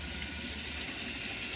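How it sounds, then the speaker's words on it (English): Hot water runs steadily into a container for home brewing sanitizing, a continuous broadband rush of filling liquid with no talking. "And I'm just going to fill it with some nice hot water"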